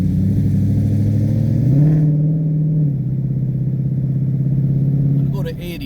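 A 2016 Ford Mustang GT on Bridgestone Blizzak WS90 winter tires accelerates on a slushy road, its V8 note rising in pitch as it climbs through a gear, then settling into a steady drone that fades near the end.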